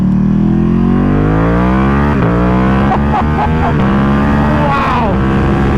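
A 2021 Ducati Panigale V2 fitted with a full Akrapovic exhaust drones loudly and close on a highway, its engine note rising and holding with a couple of throttle shifts, while a rider talks briefly over it.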